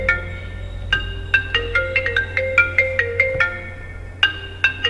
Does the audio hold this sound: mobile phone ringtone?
yes